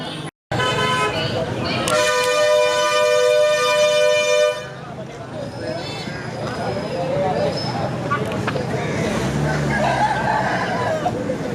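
A rooster at a live poultry market selling fighting cocks, hens and ducks gives one loud, drawn-out crow close by, followed by a crowd of voices talking over market bustle.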